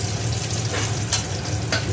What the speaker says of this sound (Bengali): এখন আমি রসুনটাকে ভেজে নেব